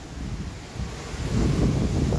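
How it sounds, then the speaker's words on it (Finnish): Strong outdoor wind buffets the microphone in a low, roaring rush that swells louder toward the end, steady and close with no voices heard. "Kauhea tuuli, täällä on nyt joku tuuli."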